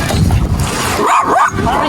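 A dog barks outdoors near a river farm, giving a couple of short yaps partly masked by nearby voices and ambient noise.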